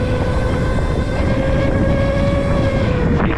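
An ETM RTR electric motorcycle riding in sport mode gives off a loud, steady high-pitched motor whine over heavy rushing wind noise, continuous and close.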